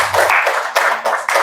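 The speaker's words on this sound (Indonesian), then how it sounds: "beri tepuk tangan yang meriah untuk Ustazah" Audience applause for a female religious teacher at a school gathering, a short burst of many hands clapping with a few rhythmic swells, fairly close and loud, with no talk over it.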